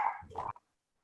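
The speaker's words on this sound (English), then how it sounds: "Sorry, our dogs are barking." Dogs in a home bark in a brief burst of one or two muffled yips, fairly faint and distant, then silence.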